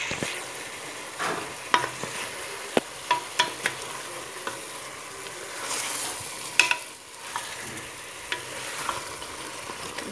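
Chicken with olives fries in a pan for a tajine, a soft steady sizzle broken by scattered clinks and scrapes of stirring, close and alone.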